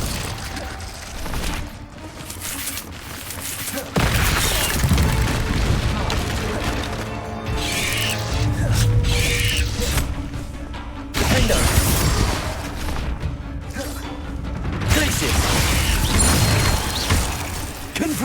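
Confringo blasting-spell explosions in the video game Hogwarts Legacy: loud, continuous booming blasts and crashing impacts that rumble and overlap, with brief shifts in intensity.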